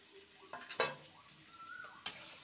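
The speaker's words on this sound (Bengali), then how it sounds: "পেঁয়াজটাকে হালকা ভেজে নেব।" Chopped onion fries lightly in a pan with a low sizzle, punctuated by several close spatula scrapes and metallic clinks against the pan.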